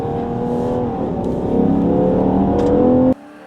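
A Ferrari Purosangue on warm-weather tyres accelerates hard, its engine note rising steadily in a loud, close, continuous roar before cutting off abruptly.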